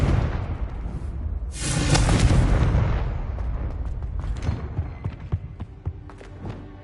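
A Confringo fire spell blast in Hogwarts Legacy, one loud close explosive boom that swells and rumbles, then decays into crackling debris pops and scattered bursts, with no talk over it.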